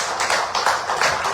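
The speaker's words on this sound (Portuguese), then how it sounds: "se quiserem, aplaudamos ao nome da nossa Deus" A church congregation claps together in loud, rhythmic waves of applause, fairly close and continuous, with no one speaking over it.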